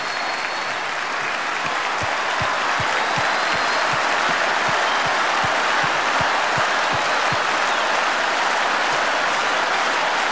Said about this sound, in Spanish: todos te brindamos este tremendo aplauso que viene directo desde el corazón